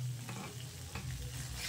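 Crab pieces fry in hot oil in a pan for a spicy crab curry, a steady, quiet sizzle with a few soft stirring scrapes and no voices.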